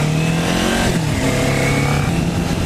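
A Kawasaki Ninja 400 motorcycle idling at a standstill, its engine a loud, close, steady throb with a slight rise and fall in revs and no voices.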